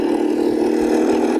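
Jawa Perak BS6 motorcycle engine heard while riding, a steady, loud, continuous drone at constant speed with no voices.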